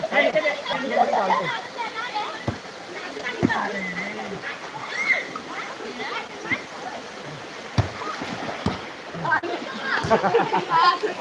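Water splashing as children bathe in a Konkan river, with voices talking and calling throughout and the splashes mixed in among them.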